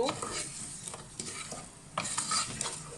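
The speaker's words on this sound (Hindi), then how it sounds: "ये थोड़ा सा क्रैकल करता है" Freshly crushed spices crackling in hot oil for samosa filling, a faint continuous sizzle broken by small pops and the scrape of a spoon stirring in the pan.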